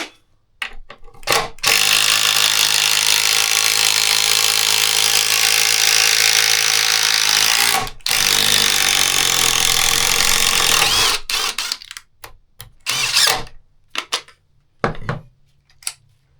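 DeWalt 787 impact driver running in one long loud burst of rapid hammering rattle, cutting off and restarting once, followed by a few shorter clattering bursts and pauses.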